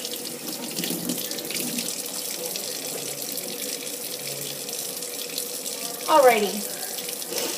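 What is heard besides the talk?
water running from a tap while washing hands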